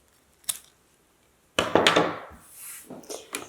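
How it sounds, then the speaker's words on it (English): Scissors cut through the end of a continuous zipper, teeth included, giving one short snip followed by a louder, longer crunching cut and a few smaller snips, close and alone. "cut it off completely at the other side, including the zipper teeth"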